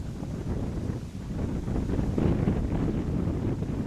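Steady wind buffets the microphone, a continuous low rumble with gusty swells and no voices.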